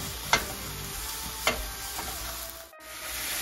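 Eggplant pieces frying in oil in a pan for caponata, a steady soft sizzle throughout with a couple of sharp ticks from stirring, close and with no voices.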